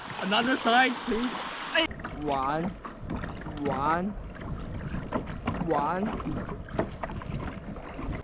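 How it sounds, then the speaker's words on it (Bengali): Kayak paddled along a river amid open countryside, with soft water swishes and wind noise running beneath near, constant talking and laughter. "এত সুন্দর প্রকৃতির মাঝে কায়াক করছি"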